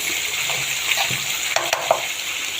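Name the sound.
fish frying in oil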